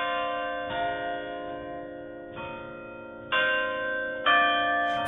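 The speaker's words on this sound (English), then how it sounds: "Its famous bells, which chime every quarter hour, once graced St." The Sterling Vineyards bells, which came from St. Dunstan's Church in London, chime in a slow sequence of four or five clear ringing strikes whose tones sustain and overlap, resonant and alone.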